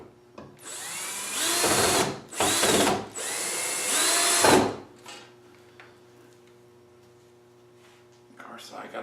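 A power drill boring into wood in a home woodworking shop, three loud whining bursts of a few seconds each with short pauses between, then a fainter steady machine hum afterward.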